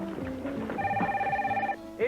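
A telephone rings with a steady electronic trill partway through a TV commercial for a Bell Atlantic caller ID phone service, sounding clearly over background voices and music.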